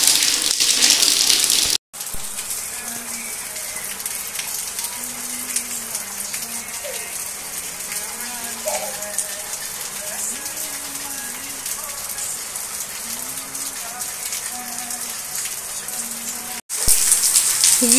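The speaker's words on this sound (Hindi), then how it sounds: "ये देखिए कितना बारिश हो रहा है।" Steady broadband wash of heavy rain pouring down outside a house during a downpour, with water flooding inside, continuous and moderately loud; a brief dropout near the start and end, and faint tonal voice-like sounds drift underneath.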